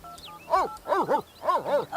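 A dog in The Sims 3 barks about five times in quick succession, with short, bright, close-sounding yaps and no talking over them.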